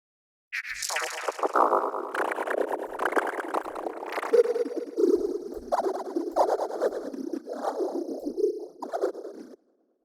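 Droid Birds preset from the Shamanic Voices bank for Arturia Pigments, a quirky synthesized vocal-like patch with warbling, chirpy gliding tones and bright high overtones, played continuously and alone at moderate level.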